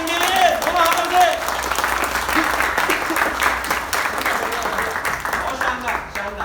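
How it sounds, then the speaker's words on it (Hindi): Loud, sustained audience applause and clapping fills a laughter show hall, steady throughout with a slight swell early on and a few voices mixed into the crowd noise. "एक बार जोरदार तालियां उंगली अंगली तुम हाथों से"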